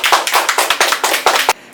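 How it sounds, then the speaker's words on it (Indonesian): A small group claps hands in a few brisk bursts at a talk-show style gathering, close and punchy, stopping abruptly. "Eki, boleh tepuk tangan yang ikhlas di sini?"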